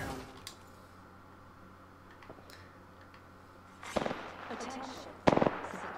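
Gunfire in the Apex Legends battle royale shooter: two short, loud rattling bursts of shots near the end, after several seconds of low, steady game ambience.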